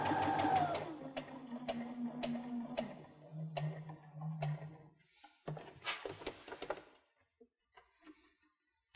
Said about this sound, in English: So we're going to stitch about 2 to 3 inches before and after the V.